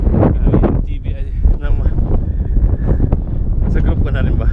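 Gusty wind batters the mic at an African waterfall, a heavy, unbroken low rumble that swells and dips while people talk through it.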